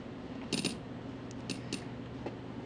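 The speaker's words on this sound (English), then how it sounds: "and the coins making sounds" Coin pickups in a homemade video game ring out as several short, bright chimes, one doubled near the start and a few more spaced apart, over a steady low background hum.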